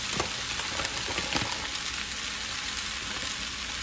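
Vegetable noodles stir-frying in a pan, giving a continuous bright sizzle with a few sharp scraping taps of stirring, close and steady without speech.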